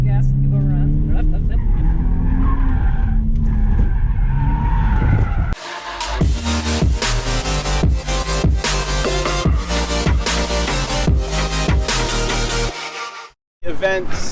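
A 2013 Subaru BRZ runs an autocross course set in a stadium parking lot, its engine revving loudly up close for several seconds before a rhythmic, music-like pounding takes over until an abrupt cutoff.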